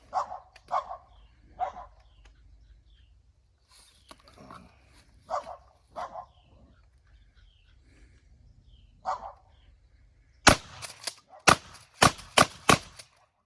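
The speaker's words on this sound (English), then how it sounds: "That's how you slam fire a pump shotgun." An Ithaca Model 37 20 gauge pump shotgun is slam fired outdoors: five or six sharp, loud blasts in a quick rapid sequence at the end, after quieter barking from a dog earlier on.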